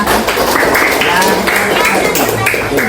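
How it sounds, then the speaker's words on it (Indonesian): A classroom of fourth-grade pupils claps their hands together in a dense, loud burst that fills the whole moment, steady and close with no pauses. "Tepuk tangan untuk tempat kita."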